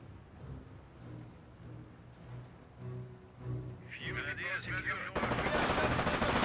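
American Ranger rifle fire in a Company of Heroes battle pops in scattered bursts amid engine rumble and battlefield noise, growing louder toward the end as a voice talks over it.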